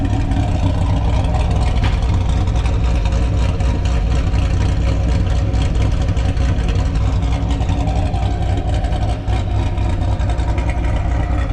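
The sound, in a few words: 2017 Chevrolet Camaro 2SS V8 engine running, long tube headers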